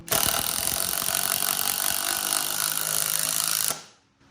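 A SKIL PWRCore 20 impact driver drives a long screw about 2.5 inches into wood, hammering continuously and loudly for several seconds before stopping abruptly.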